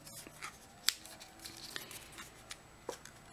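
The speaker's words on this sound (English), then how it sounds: "use your bone folder and get those pressed down really well" A bone folder pressed and rubbed along scored paper cardstock, giving faint scattered crisp scrapes and taps, quiet and close.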